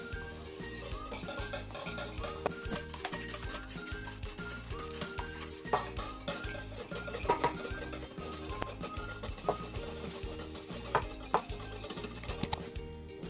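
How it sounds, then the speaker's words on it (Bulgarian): Eggs whisked in a bowl for Bulgarian banitsa, a quick regular clinking and scraping rhythm that carries on for several seconds, close and fairly quiet, with no talking. "Следва разбъркване."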